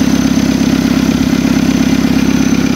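Small buggy engine idling steadily up close, a continuous even throbbing drone with a cooling fan also running, loud and alone without talk.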